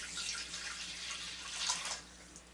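Warm water being poured into a bowl of homemade bread roll dough mix, a faint, steady liquid splash and trickle that runs for a couple of seconds with no talking.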